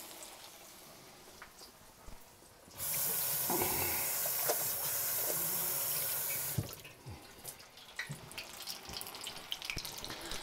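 Bull testicles dropped into overheated cooking oil set off a loud, steady sizzling hiss for about four seconds, which then settles into quieter, scattered crackles and pops.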